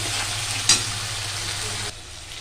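Spice masala for a banana-flower curry fries in a pan, giving a close, steady sizzle with a brief stirring scrape, then the sizzle drops off abruptly near the end.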